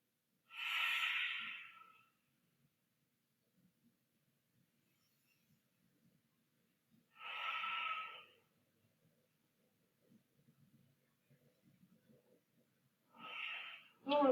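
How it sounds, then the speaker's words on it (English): Slow, deep breaths during a seated chair yoga session: three long, airy breath sounds spaced several seconds apart, close and clear, with near silence between them. "Taking 3 more breaths here."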